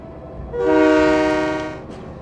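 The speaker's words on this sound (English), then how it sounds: "There's not really much momentum with this train" In the video game Train Mechanic Simulator 2017, a train's horn sounds one loud, tonal blast lasting about a second over a low rumble of rolling rail noise.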